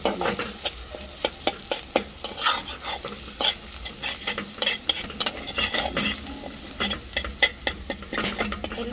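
A spoon stirs a thick garlic chili paste in a frying pan, close and loud. Sharp, rapid metal scrapes and taps ring against the pan in an irregular rhythm over a low, steady sizzle.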